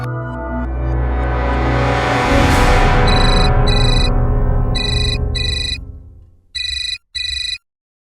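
A phone ringtone plays in a tense Hindi television drama, several short electronic bursts repeating after a swell of background music, loud and alone with no talk.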